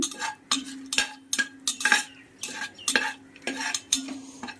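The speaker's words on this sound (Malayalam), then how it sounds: "ചെറിയ കഷ്ണം പട്ട, ബേ ലീഫ്, 2 ഏലക്കായ, അതത്ര ഇട്ട് ഒന്ന് മൂക്കട്ടെ." A spoon scrapes and clatters rhythmically around a pan as cinnamon, bay leaf, cardamom and star anise fry for vegetable rice, with a faint sizzle under about a dozen evenly spaced stirring strokes.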